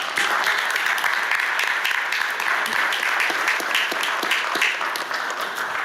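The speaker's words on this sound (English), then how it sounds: "Let's give them a round of applause." A steady round of applause at a city board meeting for a high school varsity football team and coach, dense clapping held at an even level throughout.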